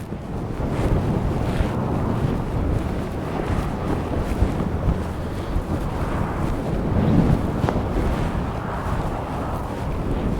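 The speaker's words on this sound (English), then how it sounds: "It's still really quite windy" Strong wind buffets the microphone in loud, rumbling gusts in Uyuni, Bolivia, with a wash of surf-like noise underneath and no one speaking.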